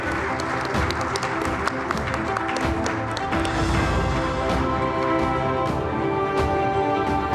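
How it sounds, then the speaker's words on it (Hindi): An audience at the TV9 Satta Sammelan 2024 gives Rajnath Singh loud, continuous applause. Dense clapping and crowd noise fill the hall over a bed of steady music. "एक बार जोरदार तालियां हो जाए राजनाथ सिंह जी के लिए"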